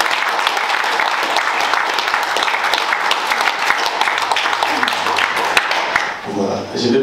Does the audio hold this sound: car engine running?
no